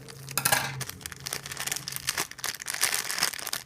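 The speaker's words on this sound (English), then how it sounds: "I'm gonna cut the bag." Scissors snipping open a plastic bag, with crinkly rustling and crackling of the plastic throughout, close up and moderately loud, no speech.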